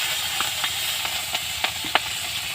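Chillies sizzle in hot oil with nigella seeds, a steady close hiss broken by occasional sharp pops and crackles.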